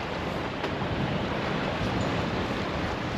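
Sailboat moving through waves among islands and reefs off Sweden, giving a steady broadband wash of water and wind noise that stays even and fairly loud throughout, with no voices.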